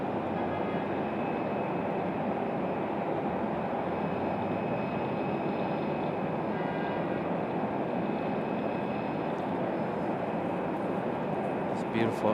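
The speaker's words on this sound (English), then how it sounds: "Beautiful A350." An Airbus A350 airliner at Raleigh-Durham airport makes a steady, loud jet engine roar that holds evenly throughout, with no talk in the clip.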